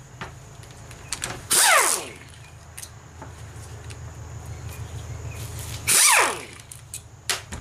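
A power tool drives out the 8mm retainer bolts holding the solenoids on a gearbox: two separate loud whirring bursts, each about half a second, with quiet clicks and handling noises in between.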